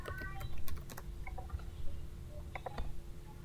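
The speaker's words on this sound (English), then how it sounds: "I'm typing Sierra and Madison." Rapid, light keystrokes tap on a computer keyboard at close range in irregular bursts, clicking quietly over a low background rumble.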